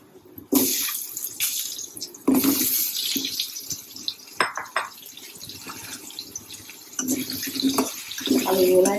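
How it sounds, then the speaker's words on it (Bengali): Potatoes fry in a pan over a tempering of fenugreek and nigella seeds, a close sizzle rising and falling in bursts with occasional clinks of stirring. "আলুগুলা একটু লাল লাল করে ভেজে নিব"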